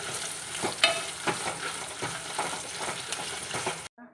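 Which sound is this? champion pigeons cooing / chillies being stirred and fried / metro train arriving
chillies being stirred and fried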